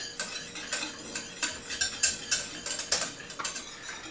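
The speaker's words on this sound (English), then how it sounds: "Just kind of whisk that and get it all combined." Whisking liquid in a pot while making sushi rice seasoning, a quick rhythmic series of metal wire scrapes and clinks against the pot, close and fairly quiet, no talk.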